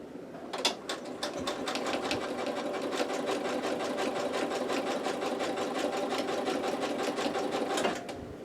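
A sewing machine stitching a satin stitch, a rapid even needle clatter running steadily for several seconds after a brief start, close and alone without talk.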